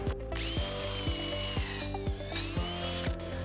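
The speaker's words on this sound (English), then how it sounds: "I'm going to put 2 holes just to keep these boards" A power drill boring holes in wooden boards for a farmhouse bench, a close, loud steady whine with repeated short pulsing surges as the bit cuts.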